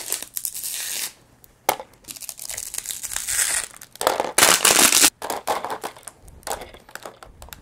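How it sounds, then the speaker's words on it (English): Small plastic water bottles being crushed one after another, loud close crinkling and crackling in irregular bursts with short pauses between them, including one especially harsh crunch near the middle. "Then I'll just crush 7 of these."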